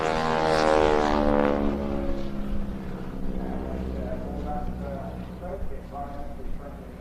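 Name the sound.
display aircraft making opposition pass at air festival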